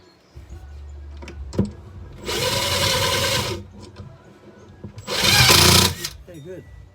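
A power drill drives screws into kitchen cabinets in two loud whirring bursts of about a second each, each ending as the screw catches, with people talking between the bursts.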